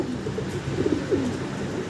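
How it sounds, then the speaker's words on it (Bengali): Young Indian Notan and Rajshahi Giribaj pigeons give a few soft, brief coos over a steady low background hum, faint and close-by. "দুই জোড়া কবুতর এক জোড়া ইন্ডিয়ান নোটন এক জোড়া রাজশাহী গিরিবাজ"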